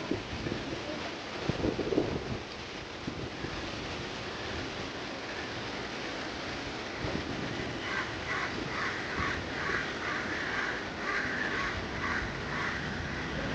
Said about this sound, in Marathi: खूप पक्ष्यांचा आवाज आपण ऐकू शकतो.